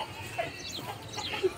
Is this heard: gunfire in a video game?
no